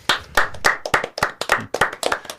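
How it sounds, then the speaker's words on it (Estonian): Applause rings out around a talk-show table as five players from the Estonian championship top ten are introduced: close, brisk rhythmic clapping that carries on steadily for a couple of seconds with no voices over it. "Aplaus!"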